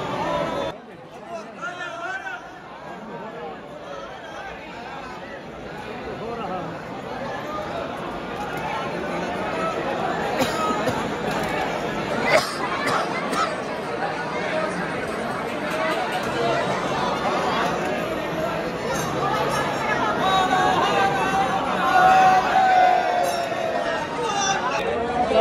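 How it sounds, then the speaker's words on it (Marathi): Dense crowd chatter inside the packed Mahakaleshwar temple, a continuous babble of many voices with occasional clinks and shuffling, steady and close all around, with one nearby voice talking through it. "गाभाऱ्याच्या इथे खूप गर्दी आहे"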